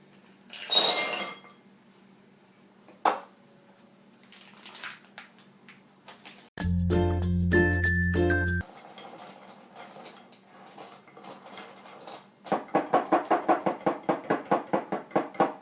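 Clinks and knocks of a glass bowl, a microwave hum with a beep, then rapid rhythmic whisking taps against glass as melted chocolate and butter are whisked, close and without speech.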